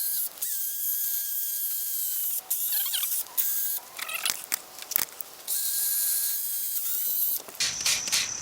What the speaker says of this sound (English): So keep spraying everything.